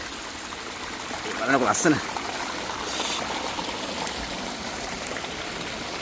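Shallow water of the Walawe river rushes and burbles around someone's feet, a constant near wash with a brief splashy burst, while a voice speaks over it.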